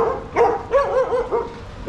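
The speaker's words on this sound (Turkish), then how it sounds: "Burada köpekler var." Several dogs bark near a forest camping area, a run of loud, close yaps and barks with brief whimpering tones, several overlapping bursts across the stretch.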